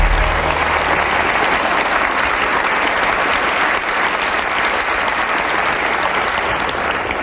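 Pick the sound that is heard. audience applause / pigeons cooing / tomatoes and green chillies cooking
audience applause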